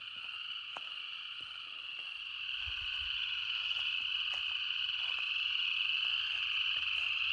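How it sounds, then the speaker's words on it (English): A dense, continuous chorus of toads trilling together in Makoshika State Park, Montana, steady and fairly loud, with a few faint clicks and a low rumble beneath. "this sound is actually from a thriving colony of toads"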